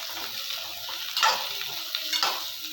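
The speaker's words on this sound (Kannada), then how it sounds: "ಸ್ವಲ್ಪ ಕಲರ್ ಚೇಂಜ್ ಆಗುವವರೆಗೆ, ಮೇಲುಗಡೆ ಚುಕ್ಕೆ ಬೀಳೋವರೆಗೆ ಚೆನ್ನಾಗಿ ಹುರ್ಕೊಳ್ಳೋಣ." Stuffed ridge gourd frying in a pan, a steady close sizzle of hot oil with occasional louder crackles and stirring scrapes.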